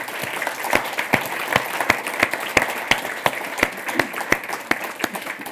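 Applause rises for a speaker at a sustainability conference on decarbonising the built environment, a moderate crowd clapping steadily with sharp individual claps standing out, fairly close and continuous throughout.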